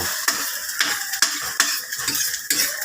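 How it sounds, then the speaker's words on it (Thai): Beaten eggs for a Thai omelette sizzle loudly in hot oil while a utensil scrapes and clanks against the pan in regular stirring strokes, close up and without voices. "ดูวิธีทำไข่นะทุกคนไข่เจียว"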